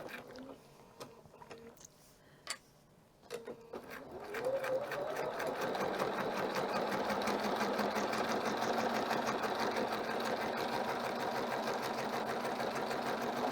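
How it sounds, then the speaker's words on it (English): A sewing machine runs steadily for about nine seconds, stitching up the side of a dust cover for a thread spool rack, after a few short starts and pauses at the beginning. "Then we'll go ahead and sew up the side."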